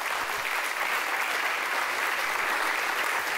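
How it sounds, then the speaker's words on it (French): An audience at the Festival Zéro Polémik 2019 award ceremony applauds in a steady, even wash of clapping from a sizeable crowd that holds at a constant level from start to finish. "Vos acclamations s'il vous plaît, mesdames"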